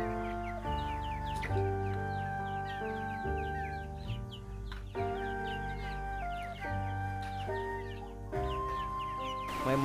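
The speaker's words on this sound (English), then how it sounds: "My mother chicken woke up a long time ago." A hen clucks repeatedly in a rural Vietnamese garden, fairly close, amid a dense layer of steady tonal chirping and droning with no talking.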